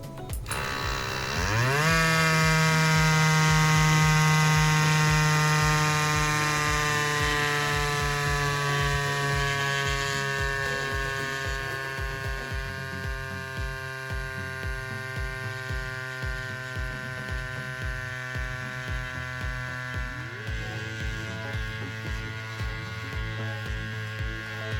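A small CYCPLUS Cube electric tire pump runs steadily while inflating a road bike tire, a loud buzzing motor drone with a throbbing pulse whose pitch slowly falls and strains as pressure builds, heard close up and alone.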